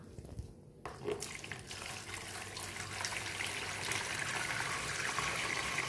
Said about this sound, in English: we're gonna pour this water into it